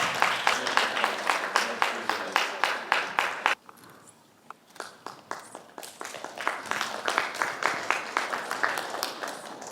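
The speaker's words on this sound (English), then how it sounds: "Let's clap for her." Audience applause at a Kenyan gathering of governors' spouses hosted by the First Lady, breaking into a rhythmic unison clap with steady beats, a brief lull midway, then resuming loud and close.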